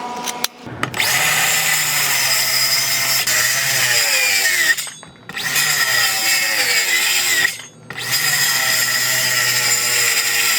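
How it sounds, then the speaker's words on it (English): A cordless drill running on cheap Dewalt replacement batteries mixes mortar, whining loudly and steadily in three long bursts separated by short pauses, with a gritty churning beneath the motor. "It works mixing mortar with the drill."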